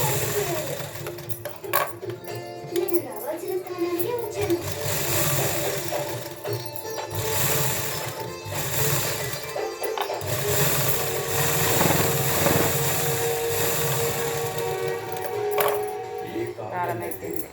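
An electric sewing machine stitches blouse cloth with a continuous fast whirring chatter that briefly pauses and restarts. A voice talks over the machine throughout.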